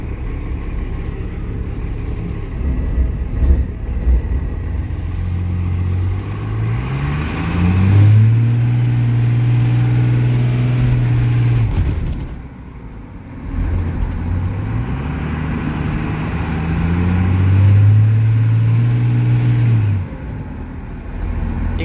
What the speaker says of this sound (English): You can hear the turbo noises.